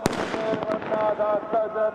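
Fireworks go off at a night cricket final in Chittorgarh, sharp pops and crackling bursts in quick succession under a commentator's continuous excited talk.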